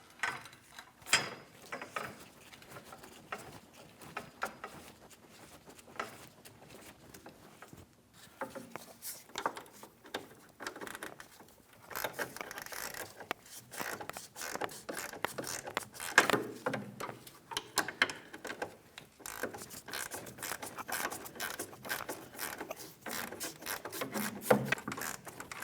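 Quiet clicking of a ratchet working on the upper control arm bolts of a 2007-2014 Ford Edge, bursts of rapid mechanical ticks with short pauses between them.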